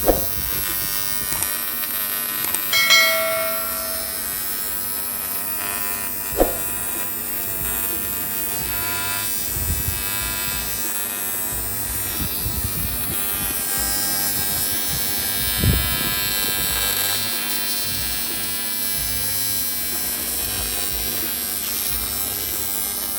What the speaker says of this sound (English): there's some TIG welding going on here on the transmission